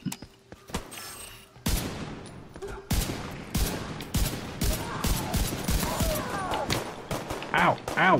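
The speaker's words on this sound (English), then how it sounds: "who the fuck is shooting at me?" Gunfire in the shooter game The Division 2, loud bursts of automatic fire and sharp single shots coming in clusters over several seconds, close and punchy, with rising intensity toward the end.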